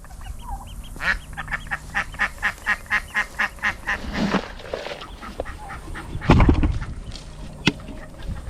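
A big farmyard duck quacks in a quick, regular series of about a dozen close, loud calls, followed after a pause by a couple of rougher squawks and bumps.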